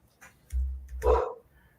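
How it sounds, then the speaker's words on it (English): A dog barks once or twice, close and fairly loud, in a room during a craft beer show, with brief faint sounds before it. "I have no idea why she's barking."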